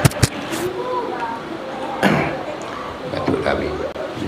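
A couple of short, sharp coughs burst out at the start, followed by throat noises and someone speaking.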